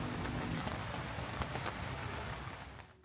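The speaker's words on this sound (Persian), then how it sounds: "فقط صدای بارونم گوش کنیم." Steady rain falling, a dense hiss with occasional heavier drops, close and continuous, easing slightly at the very end.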